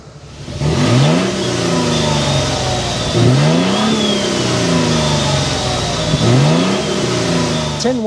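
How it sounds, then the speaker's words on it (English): A Toyota Tundra Limited engine fires up and revs loudly three times in a steady rhythm, each rise and fall of the exhaust note close and strong over a continuous rumble, with no talking. "start up this bad boy so you can hear that exhaust note"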